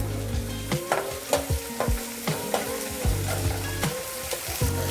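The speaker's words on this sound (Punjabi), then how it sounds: "ਹੁਣ ਅਸੀਂ ਇਹਨੂੰ ਚੰਗੀ ਤਰ੍ਹਾਂ ਭੁੰਨਣਾ ਹੈ ਜੀ ਮਿਰਚਾਂ ਨੂੰ ਵੀ" Onions and green chilies frying in a pan for a momo filling, a steady close sizzle broken by repeated scraping stirs of a spoon against the pan.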